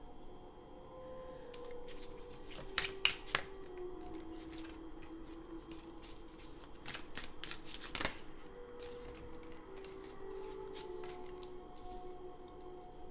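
Haunted House Tarot cards being shuffled by hand, a run of soft riffling flicks and snaps with a few sharper card slaps, close and without talk.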